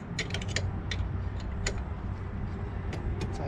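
Brake caliper bolts on an LSX-powered car are tightened with a 13 mm wrench, producing a series of short, sharp ratchet clicks and creaks in irregular bursts against a quiet background.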